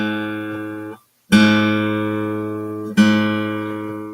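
A low, sustained plucked guitar note, the open A on the fifth string, rings out, fades, and is played again twice with short gaps, each strike bright at first and then slowly decaying.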